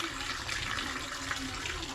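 Water pouring steadily onto flowers, a soft continuous splashing gush at moderate distance with no pause.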